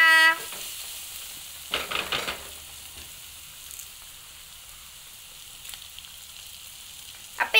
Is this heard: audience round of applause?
no